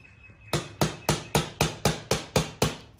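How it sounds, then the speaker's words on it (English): Nine sharp metallic hammer blows on a car's steel door frame, hammering the top steel edges down onto the door card, at a steady, even pace, close and loud, each ringing briefly before the next strike. "hammer the top steels back down onto the card, so they don't slip off."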